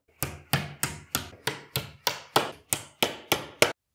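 Plastic feet being knocked into the side panels of an IKEA Malm dresser, heard as eleven sharp, evenly spaced hammer blows about every third of a second, close and loud with no talk.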